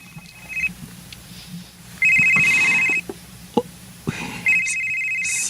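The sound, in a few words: telephone ringing in a radio drama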